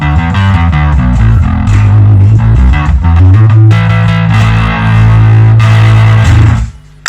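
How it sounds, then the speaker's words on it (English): A bass guitar played through an overdrive pedal in a live rig, loud gritty distorted notes with a thick low end, a plucked riff that settles into sustained held tones before cutting off. "Next is my bass overdrive."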